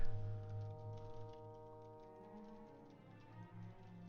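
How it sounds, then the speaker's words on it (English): Typing on a computer keyboard, a faint run of light ticking keystrokes over a steady low hum, with no voices. "I am typing it up."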